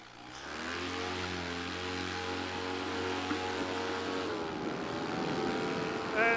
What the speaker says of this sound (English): All right, clear prop. Should be an easy takeoff. Let me just give it a quick run up.